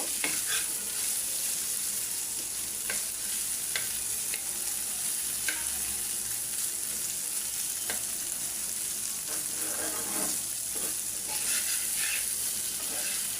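A spoon stirs small chanda fish curry as it fries in a pan, a constant close sizzle broken by scattered scrapes and taps of the utensil, with no voices.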